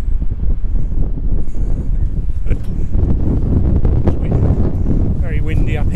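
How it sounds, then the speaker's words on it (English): Strong, steady wind buffets the microphone on an exposed coastal hilltop, a loud continuous roar with brief gusty swells and no pauses. "Very windy up here."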